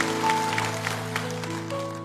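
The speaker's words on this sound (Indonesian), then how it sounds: "Kasih tepuk tangan untuk Tuhan Yesus yang kita kasih" A church congregation claps in scattered bursts over sustained, steady musical tones, with the applause moderately loud and fairly close throughout.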